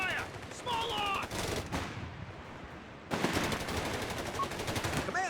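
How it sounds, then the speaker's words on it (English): Small arms fire in the video game Company of Heroes 3, heard as rapid rattling machine-gun bursts with a short lull in the middle, followed by renewed continuous firing. "Under fire! Small arms!"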